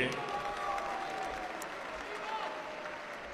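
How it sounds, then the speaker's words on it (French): A crowd applauds steadily at a France versus Italy cage-fighting event as the Italian fighter in the blue corner is introduced, the clapping dense and sustained under a faint arena hum. "je vous demande de l'applaudir comme il se doit"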